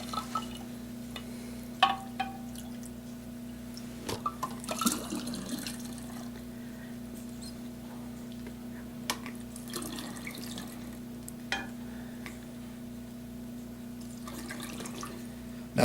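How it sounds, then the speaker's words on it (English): Homemade kombucha poured from the brew through a strainer and funnel into bottles: a soft, steady trickle over a constant low hum, with scattered drips and small clinks and no talking. "Now I'm only going to fill these bottles most of the way up till about where it starts to bend back up into the neck"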